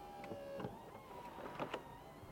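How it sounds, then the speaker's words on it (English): The fabric roof of an MG Cyberster electric roadster opens quickly with a quiet electric motor whir and a few soft clicks and thunks as it folds, heard close up without talk. "it's a really fast opening roof and closing roof"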